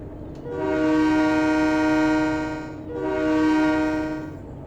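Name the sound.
bus horn sounding like American train horn, Trainz 22 video game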